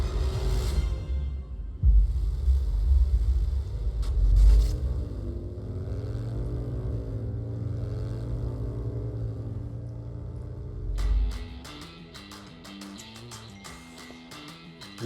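Continental GT Cup race car at Kari Motor Speedway in Coimbatore, a low engine drone with rising and falling gear tones, rumbling bursts and scrapes, ending in a harsher, louder mechanical clatter.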